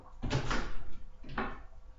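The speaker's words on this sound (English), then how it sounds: "Let me just open up this door." A door is opened indoors, with two scraping, rattling movements about a second apart, close and fairly loud, and no voices during the sound.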